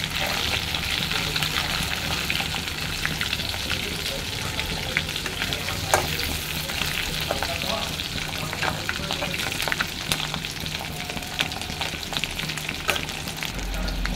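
Whole garlic cloves frying in oil with dried chillies, a continuous close crackling sizzle with scattered pops and the occasional clink of stirring.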